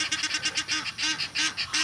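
Egyptian geese honking at an animal park, close and loud, in a rapid series of short, harsh calls that run together with almost no pause.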